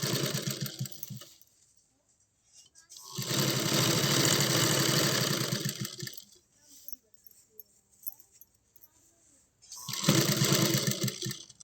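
A sewing machine stitches a blouse waistband in two long bursts of fast, whirring running, separated by quiet pauses, with a third short burst near the end.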